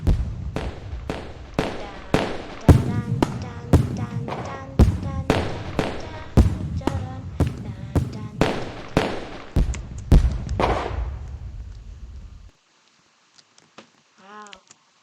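Fireworks launch and burst in a fast, steady series of sharp cracks and thumps for about twelve seconds, then fall quiet, leaving only a faint, brief voice at the end.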